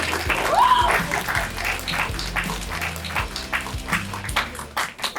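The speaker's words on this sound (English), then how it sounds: "Give a round of applause." Round of applause from the audience at a middle school debate at Stanford, with scattered claps over a low, steady musical backing and brief chatter.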